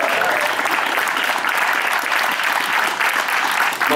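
Dense, steady applause from a festival audience at the Opole Polish Song Festival, a broad wash of many hands clapping at once, loud and sustained throughout with no voices on top.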